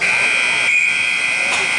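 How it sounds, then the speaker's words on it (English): A long, steady electronic buzzer sounds through the arena at the end of a period in a junior ice hockey game, loud and continuous with faint crowd noise beneath. "they're going to hear a buzzer for the end of the period"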